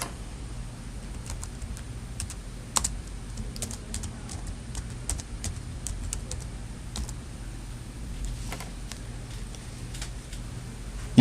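Typing on a computer keyboard while entering a title for a photo album, a quiet irregular run of soft key clicks with a few sharper taps over a low steady background hum.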